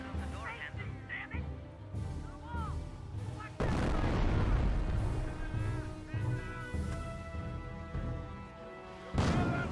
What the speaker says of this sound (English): Ooh, great mortar hit there.